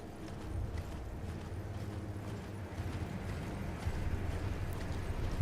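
Torrent, a summoned horse in a video game, trots with a steady, continuous clip-clop of hooves at an even pace, moderately loud and unbroken throughout.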